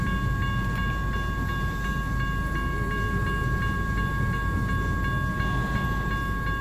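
BNSF trailer freight train led by warbonnet locomotive 4703 crossing Baker St, a steady loud rumble of rolling cars with faint rhythmic wheel clicks and a constant tonal ring throughout.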